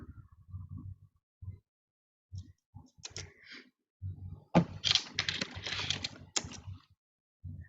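Clicks and taps on a computer keyboard come in short bursts, a few isolated keystrokes then a denser flurry, close and fairly quiet, with someone speaking between them.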